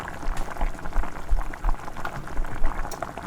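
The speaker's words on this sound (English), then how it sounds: "I took the lid off and I'm giving it a stir." A pot of Tuscan soup simmering and bubbling steadily, with soft irregular liquid pops and gurgles as it is stirred, close and fairly loud with no talking.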